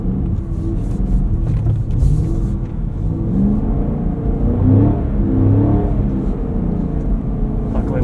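A 2024 Cadillac CT5-V Blackwing pulls away gently on a snowy road on winter tires, its engine a steady, close rumbling drone that swells slightly under light throttle with no voices over it.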